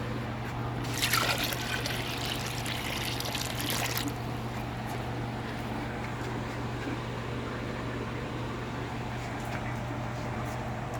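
Water is scooped and poured into a tray, trickling and splashing steadily, with a brief louder pour near the start, over a constant low background hum.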